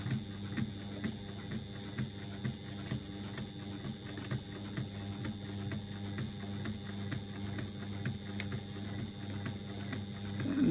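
A sewing machine stitches over a bag strap at a quarter-inch seam, whirring steadily with a rapid mechanical ticking throughout at moderate level, no voices.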